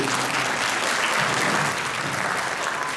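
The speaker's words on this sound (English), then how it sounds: "You may clap, please." Audience applause at a high school demonstration concert, a steady dense wash of clapping that fills the room for the whole stretch at a constant level, with no voices over it.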